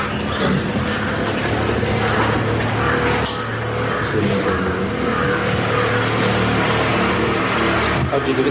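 Road traffic runs right beside a room, a loud continuous rumble of passing cars and engines that never lets up, with some indistinct voices mixed under it.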